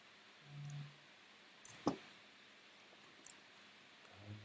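A computer mouse clicks during a coding session, giving a few quiet, crisp clicks in small clusters, close up against faint room hiss.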